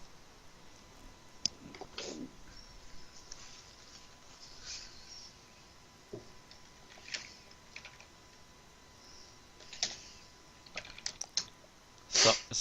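Keys on a computer keyboard are tapped in short, scattered bursts of quiet clicks with pauses between, ending in a quick flurry of louder keystrokes.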